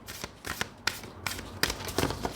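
Tarot cards being shuffled for a reading: a run of crisp riffling bursts, several in quick succession, close and fairly loud with no talk.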